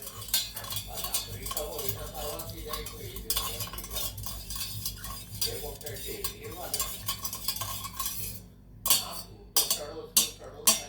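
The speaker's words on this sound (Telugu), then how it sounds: "తర్వాత ఎక్కువ 10 seconds తిప్పుకోవాలి." A spoon stirs lemon water in a glass, giving a fast, continuous run of clinks and swishes. After a short pause the stirring comes back as a few sharp separate taps, with a faint background hum.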